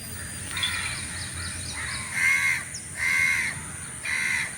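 Crows cawing on an early morning walk in Siolim, Goa, several harsh calls in separate bursts of two or three, fairly close, with faint chirps of smaller birds and a steady hiss of background ambience.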